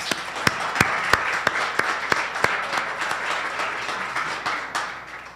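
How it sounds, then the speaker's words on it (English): Audience at a college open house in Tacoma, Washington applauding visitors, a few sharp, distinct claps up front over a sustained round of crowd clapping that carries on steadily. "let's give our visitors one more round of applause"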